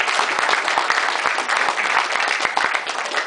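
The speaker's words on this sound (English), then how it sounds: "Thank you very much for the applause." An audience applauds a UFC fighter, John Hathaway, as he is welcomed at a live event: dense, close, sustained clapping from a crowd that fills the whole stretch without pause.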